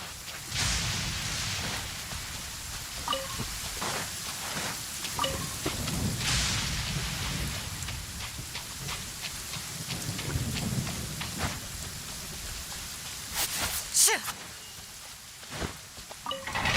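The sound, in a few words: rain and thunder in Genshin Impact video game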